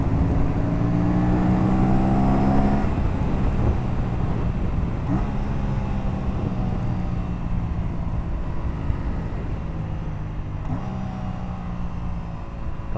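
A 2025 Aprilia RS 457 parallel-twin engine drones while riding, its pitch climbing through gears with brief drops at shifts, under steady wind rush.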